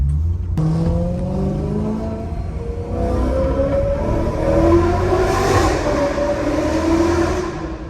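A loud BMW E9x M3 with Valvetronic midpipes revs and drops through several downshifts, the exhaust note rising and falling with a rumbling, rasping tone.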